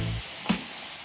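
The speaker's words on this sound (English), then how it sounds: "Make sure that your frying pan is hot, so the cherries go straight into the frying pan." Pitted cherries hit a hot frying pan with a sharp burst of sizzling, a brief loud spit in the middle before settling into a steady close frying hiss.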